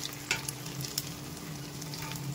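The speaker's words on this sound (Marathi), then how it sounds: "ही अद्रक अशी बारीक चॉप करून घेतलेली होती ती टाकून देऊया, थोडीशी फ्राय होऊ देऊया आपण अद्रकला" Finely chopped ginger frying in a pan for pulao, giving a quiet, steady sizzle with a few light spoon clicks and scrapes as it is stirred.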